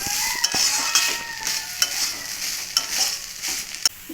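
Banana stem frying in ghee in a pan while being stirred, a continuous sizzle broken by regular scraping and clinking strokes of the spatula against the pan, close up with no voices.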